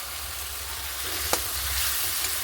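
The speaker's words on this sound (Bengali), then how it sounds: "মশলাটা ভালো করে কষাবো" Spices sizzling steadily in a hot pan while being stirred for banana kofta curry, made without onion or garlic, with a constant close frying hiss and a single sharp scrape partway through.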